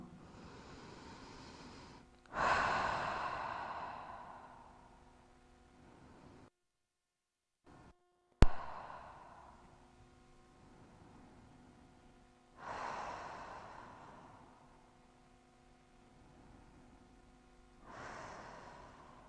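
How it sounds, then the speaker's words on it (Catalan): Three slow yoga breaths, each a long forceful exhale of all the air through the mouth, spaced several seconds apart, close and breathy with quiet pauses between. "fes 3 respiracions deixant anar tot l'aire per la boca"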